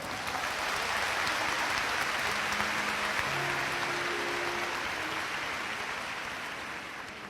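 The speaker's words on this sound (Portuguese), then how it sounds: "Então pode aplaudir se você concorda." A church congregation applauds steadily through the whole stretch, a dense, sustained wash of many hands that holds at an even loudness and only eases slightly near the end, with no voices over it.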